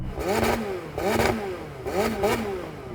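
A turbocharged sports car engine revs in repeated bursts, about four rising and falling pulls, a buzzy, strained whine without much depth.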